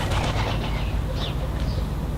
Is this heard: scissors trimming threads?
no